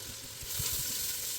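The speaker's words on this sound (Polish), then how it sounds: "Do garnka dajemy najpierw boczek, sobie przesmażymy." Bacon sizzles and fries in a pot, a close, steady crackling hiss with soft stirring bumps underneath, growing slightly louder midway.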